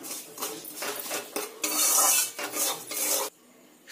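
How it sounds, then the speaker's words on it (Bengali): Powdered milk is worked into semolina in a pan off the heat, with loud, close, rhythmic scraping and rasping strokes of a spoon against metal that stop abruptly near the end. "এই গুঁড়ো দুধটা ভালো করে সুজির সঙ্গে মিশিয়ে নেব।"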